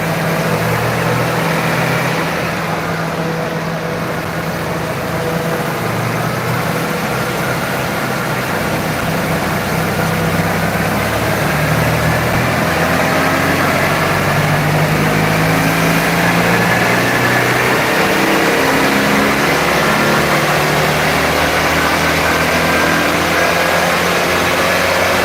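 A Citroen 2CV's small engine runs hard on a chassis dyno, a loud, steady, buzzing drone that holds constant for the whole stretch with no talk over it.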